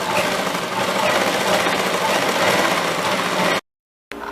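A sewing machine runs continuously while stitching a kurti, giving a loud, close, steady whirring rattle for over three seconds, then stopping abruptly into brief silence before starting again.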